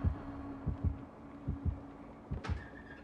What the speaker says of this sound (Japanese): 心音がしてるからこのまま少しこもっているわ。